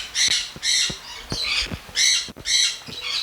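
Birds squawk loudly from a huge cage at a Jamaican villa, harsh calls repeating in bursts, close and with no voices.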